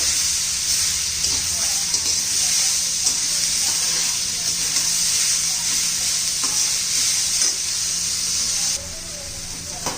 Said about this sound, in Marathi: तर हे पहा आपला मसाला आता भाजून झालेला आहे